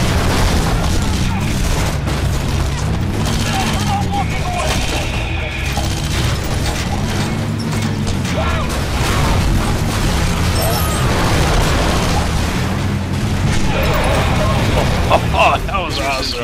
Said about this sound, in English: EDF soldiers have opened fire. They're shooting the miners.